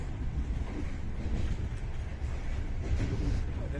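Inside an empty train carriage bound for a small town in Kyrgyzstan, a steady low rumble and rattle of the running train fills the space, continuous and even throughout.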